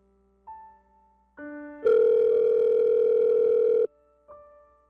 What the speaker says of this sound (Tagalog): sagutin mo na yung tawag ko